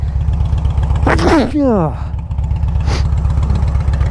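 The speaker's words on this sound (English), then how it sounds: "got a sneeze coming" A single loud sneeze bursts out over the steady putter of an idling motorcycle engine, followed by a short wheezy exhale.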